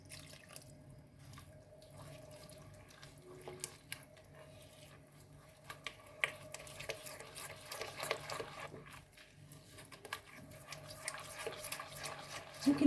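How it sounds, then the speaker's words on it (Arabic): Milk is poured into a chocolate cake batter of cocoa and flour, making faint, soft trickling and liquid splashes in a quiet kitchen, growing a little busier toward the end. "احط اللبن،"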